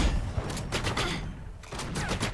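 Turret gunfire in a multiplayer shooter video game rattles in rapid, dense bursts, loud and continuous with brief gaps between volleys.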